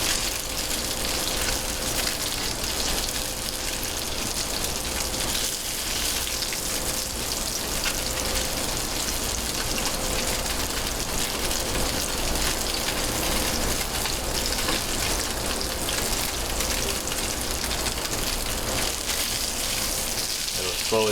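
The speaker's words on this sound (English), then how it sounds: "you're going to sear each side for about a minute or two" Salmon fillet searing in hot oil in a pan, a steady loud broadband sizzle holding evenly throughout with no breaks.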